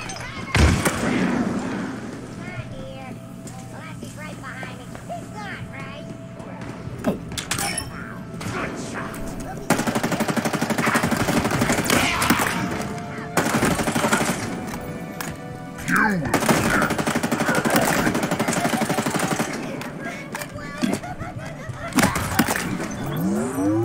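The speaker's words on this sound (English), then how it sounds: "I can shoot through them and they can't shoot back at me." Rapid bursts of gunfire and impacts from the video game Halo Infinite ring out in clusters over layered game effects and background music, with a player talking over the action.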